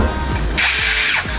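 Power drill whirring briefly at close range, its motor spinning up in one short high burst over a low background hum.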